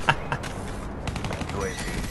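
Sharp, loud shotgun blasts from Black Ops 3 multiplayer, several quick reports in succession over the clamor of the game.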